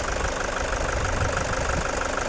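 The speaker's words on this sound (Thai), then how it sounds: "ลูกค้าสามารถฟังจากเสียงเครื่องยนต์ได้เลยนะคะ อันนี้ตีสตาร์ทเครื่องไว้นะคะ" A Toyota Commuter van's 3.0 D4D diesel engine idles close by with a steady, even knocking rumble that holds constant throughout.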